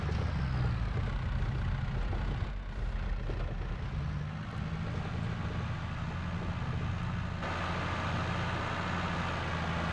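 Tractor engine in Farming Simulator 22 driving over bumpy snow, a steady loud low rumble that drones continuously and alone throughout.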